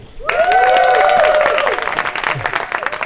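A bar or club audience claps and cheers in a short, loud burst with tonal whoops sliding over the clapping, then fading into scattered claps.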